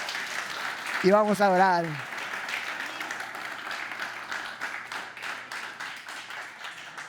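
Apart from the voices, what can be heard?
church congregation applauding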